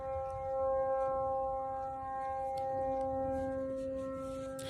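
A steady electronic siren holds several sustained tones at moderate volume, droning continuously without a break for a few seconds.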